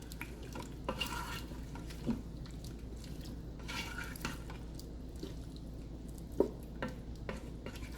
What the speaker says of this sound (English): we're going to stir that all around